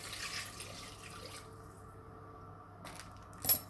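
Water trickles and splashes into a pressure cooker holding a quince tajine, a soft uneven pour that thins out midway, followed by a brief louder splash near the end.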